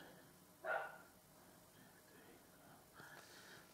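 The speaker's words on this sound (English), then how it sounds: "I could just hear the dog barking." A dog barks once, sharp but somewhat distant and muffled in a quiet indoor space, followed by a fainter second sound a few seconds later.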